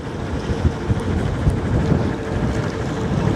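Strong wind roars across the microphone on a sailboat while docking under sail, a dense and constant rumbling buffet with faint water sounds underneath and no voices.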